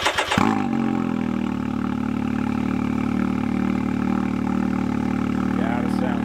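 A car engine starts with a sharp burst and then runs at a steady, loud rumbling idle with slight rises in revs, close by and continuous, while voices are faintly present.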